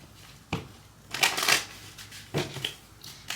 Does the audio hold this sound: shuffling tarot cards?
yes